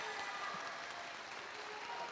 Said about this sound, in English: Let's give Jared a round of applause.